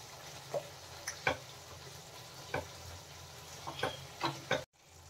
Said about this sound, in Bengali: হাতা দিয়ে একটু চেপে চেপে দেবো আলুগুলো, যাতে একটু মাখা মাখা হয় ঘুগনিটা